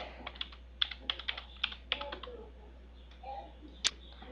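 Quick bursts of clicking keystrokes on a computer keyboard, a few rapid runs of typing followed by a lone final tap, close and fairly quiet, with no speech.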